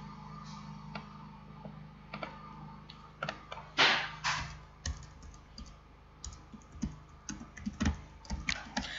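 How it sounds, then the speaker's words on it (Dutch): Typing on a computer keyboard nearby, with irregular bursts of light key clicks and a few heavier taps over a faint steady background hum, no talking. "Ik zal het zo meteen even typen hoe je dat schrijft."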